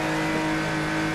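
A car engine in the Shutoko Revival Project racing game holds a steady, loud high-speed drone at over 300 km/h on the highway, with constant tonal whine and no talk.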